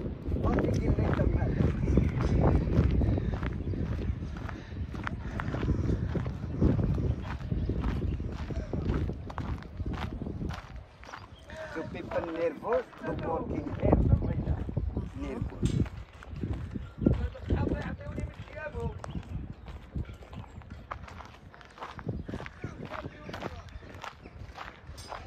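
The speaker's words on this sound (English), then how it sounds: "I see two donkeys down there." Donkeys walk through a narrow street in the Fes medina in Morocco, their hooves clopping irregularly on the ground amid voices, footsteps and general street bustle.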